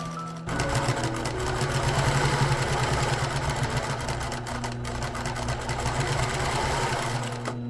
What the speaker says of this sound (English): it made it significantly more difficult to sew the lining on the machine